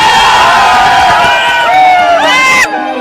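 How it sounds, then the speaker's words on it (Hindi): Crowd at a Bhojpuri stage show cheering and shouting loudly throughout, with voices rising in pitch before the noise cuts off sharply near the end. "एक आशीष को हल्ला करके ताली बजाइए।"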